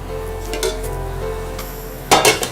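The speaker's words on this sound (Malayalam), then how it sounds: "ഇത് അടുപ്പിൽ നിന്ന് മാറ്റാം." A cooking pot of prawn biriyani is lifted off a stove, ending in a short burst of metal clatter and scraping near the end, over a faint steady sizzle in a kitchen.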